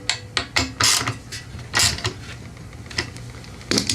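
A 1/4 inch drive ratchet tightens a bolt on a Subaru 6.0 SP 170 pressure washer engine, giving several short bursts of quick clicking with brief pauses between them, close and alone.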